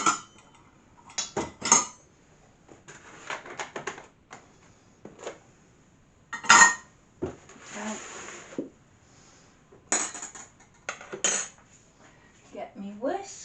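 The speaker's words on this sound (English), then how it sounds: "Get me whisk. And mix it all together." A whisk beats courgette waffle batter made with milk in a bowl, giving irregular bursts of metallic clinking and scraping with short pauses between strokes.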